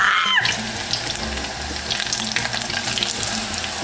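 Food pieces frying in a pan of hot oil, a steady dense crackling sizzle heard up close with no talking over it.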